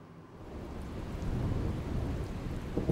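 Heavy rain pours down with a deep rolling thunder rumble that swells and holds steady across the short stretch.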